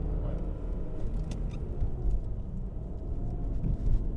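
A 1997 BMW M3 E36 3.2-litre with SMG semi-automatic gearbox on the move, its deep engine rumble steady and close from inside the cabin, rising slightly near the end.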